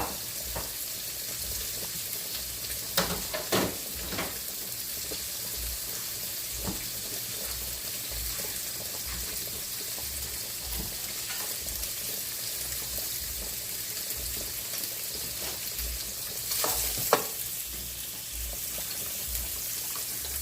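Grits with peppers and onions stirred in a pot, a soft continuous bubbling and sizzle with faint irregular spoon scrapes and a couple of sharper knocks, no voices.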